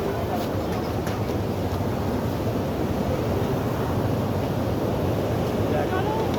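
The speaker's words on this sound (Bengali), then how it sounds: "প্রচণ্ড স্পিডে জল আসছে" Water rushes at high speed below a dam at Gajoldoba, a steady, loud broadband roar with wind buffeting the microphone throughout.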